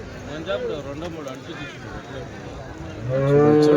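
Cows, mostly HF, moo repeatedly amid a busy crowd at the Sunday cattle market in Chintamani, people talking over the lowing, with one loud, close moo near the end.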